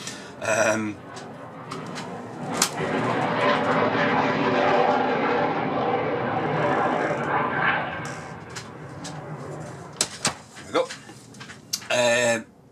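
A Eurofighter Typhoon fighter jet passes overhead, a broad roar that swells and holds for several seconds before fading, heard over a quiet indoor room with brief clicks and handling noises at either end.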